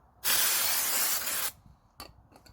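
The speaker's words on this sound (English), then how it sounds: "brake cleaner," A loud, close hiss of brake cleaner sprayed onto a clutch during a Citroen Berlingo clutch replacement, one sustained burst of about a second followed by quieter handling clicks.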